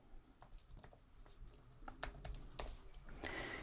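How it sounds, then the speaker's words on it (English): Numbers are typed in on a computer keyboard, heard as a quiet, close run of irregular key clicks and taps, some sharper than others, with no voices. "Now I have the sign up code, so I'm going to type these numbers in."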